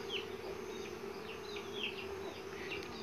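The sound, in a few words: Uruçu boca de renda stingless bees buzzing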